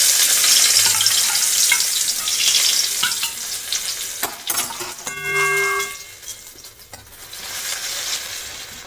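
Onions sizzling in hot white oil in a wok: a steady, loud frying hiss fills the whole stretch, with stirring scrapes and a brief metallic ringing partway through.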